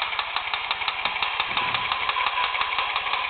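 A construction grader piston-action tractor runs its engine with a steady, rapid mechanical chugging pulse, close and fairly loud, without any talk.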